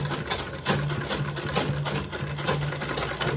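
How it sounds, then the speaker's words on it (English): A sewing machine runs steadily as it back stitches a zippered, lined make-up bag, its rapid needle chatter pulsing close and continuous with brief pauses and restarts. "Sewing, back stitch."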